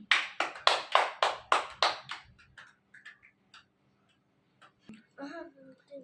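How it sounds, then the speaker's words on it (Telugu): About eight sharp, evenly spaced claps ring out close by, then fade into a quiet room with a few soft clicks and faint movement. "క్లాప్స్ కొట్టండి గట్టిగా"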